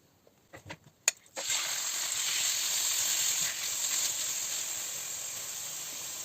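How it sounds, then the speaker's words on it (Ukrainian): A few soft clicks, then a steady close sizzling hiss as meat hits hot oil in a pan and keeps frying. "На невеликій кількості олії буду обсмажувати зараз наше м'ясо."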